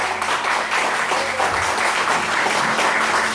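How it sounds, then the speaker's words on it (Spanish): A church congregation applauds during a Spanish-language sermon, a dense, steady wash of clapping that fills the whole span at a constant loud level. "Denle un aplauso y créalo."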